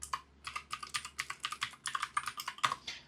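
Fingers type a grep command on a computer keyboard: rapid, close, uneven keystroke clicks in quick runs over about three seconds, with no talking.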